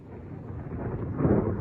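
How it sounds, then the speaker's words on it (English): Thunder rolling through a record thundersnow storm in Oswego County, New York, a low continuous rumble that swells louder toward the end. "Oh, lightning! We got thunder snow."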